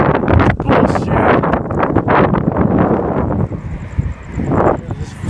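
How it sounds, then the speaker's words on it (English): Heavy gusting wind buffets the microphone outdoors in Arizona, a loud rumbling roar with brief lulls and renewed bursts throughout. "Stupid wind."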